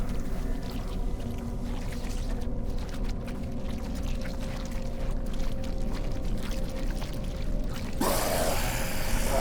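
Steady splashing and sloshing of a character wading through water in the video game Bramble: The Mountain King, continuous and fairly loud, with a brief brighter watery burst near the end.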